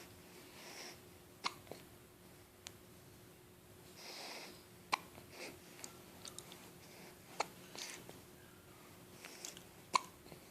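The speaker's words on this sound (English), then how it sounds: "You got the hiccups." A person's hiccups, a series of short, sharp, fairly soft jolts spaced irregularly a second or two apart, close up in a quiet room with no talk.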